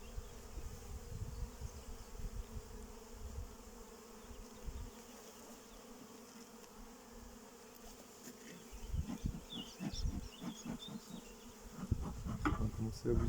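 Honeybees swarm and buzz steadily around an opened mother hive during a spring inspection, a close, continuous drone that swells louder toward the end as the colony grows agitated.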